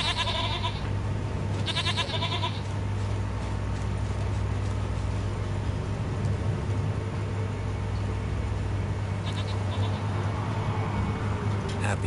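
A goat bleats in The Witcher 3: Wild Hunt on PS4, with short, loud, nasal calls near the start and again late on, over a constant game background hum.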